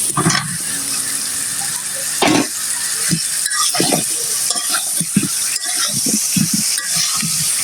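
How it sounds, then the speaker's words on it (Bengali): Potatoes fry in spiced oil in a pan while being stirred, a constant loud sizzle broken by repeated scraping and clinking strokes of a spoon, heard close up. "মশলা কষানো শেষ, এখন আলুগুলো দিয়ে নিব।"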